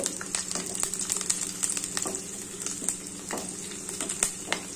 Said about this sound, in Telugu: ఫస్ట్ ఎల్లిపాయలు వేయించుకుందామండి